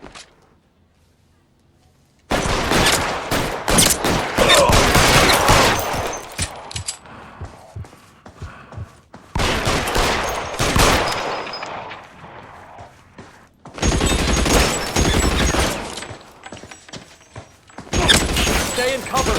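Gunfire from a shootout in the video game L.A. Noire, with loud bursts of rapid shots in several dense clusters separated by short lulls. Speech is mixed in.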